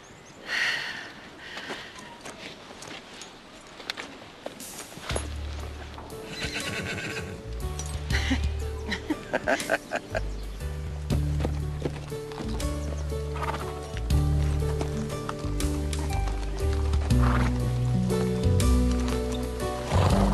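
A horse's hooves clip-clop at a steady walk with occasional snorts in a TV drama scene, alongside a swelling musical score, close and fairly loud.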